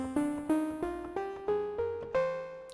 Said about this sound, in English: if I just play the white keys of my keyboards now, it sounds like this